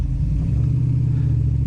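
A manual V8 VN car engine drones steadily at low revs while the clutch is ridden, a close, even rumble inside the cabin with no voices.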